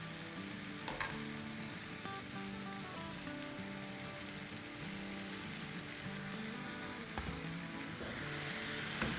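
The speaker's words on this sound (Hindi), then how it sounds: "अब इसमें हम अपनी भिंडियाँ डाल देंगे।" Okra fries in hot oil in a pan on a high flame, giving a steady crackling sizzle with scattered pops and occasional stirring clatter throughout.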